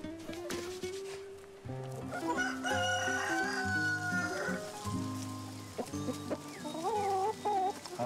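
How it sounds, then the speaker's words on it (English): Farm flock of about 50 crossbred hens and 3 roosters, with crowing and overlapping clucks close by in a busy, continuous chorus, over soft rain-like background noise. "Here I've got about 50 hens and 3 cocks that are they're from various crossbreeds."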